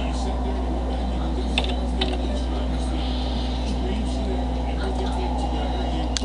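Scattered keystrokes on a computer keyboard, faint and sparse, tap over a steady electrical hum and low background noise.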